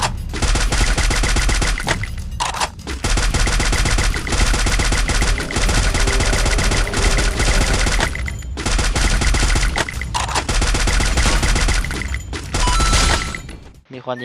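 Dense, loud bursts of automatic gunfire from the Free Fire battle royale game, sustained volleys broken by brief pauses, with a voice faintly in the background.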